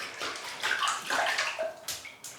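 Lukewarm water runs steadily from a tap into a basin while preparing for a wet shave, a continuous splashing rush with brief surges and a short pause near the end.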